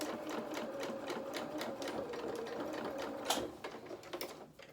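Sewing machine top stitching a pocket onto doll clothes, a fast, steady rattling run of close stitches that ends with a brief clunk and a few slower ticks.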